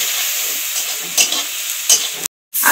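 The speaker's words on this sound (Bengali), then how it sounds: "আদা আর সব কিছু ভেজে নিয়েছি" Ginger and a small tomato fry in hot oil, a loud close hiss with two quick stirring scrapes, then the sizzle cuts out abruptly for a moment before resuming.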